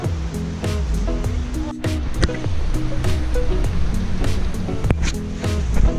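Shoshone Falls in Idaho, near a hydroelectric plant, roars with a loud, continuous rush of falling water, steady and broadband throughout, with faint intermittent voices beneath.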